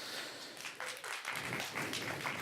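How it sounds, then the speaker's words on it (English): A short burst of audience clapping at a film Q&A screening, fairly loud and continuous, with no voices standing out. "One more round of applause."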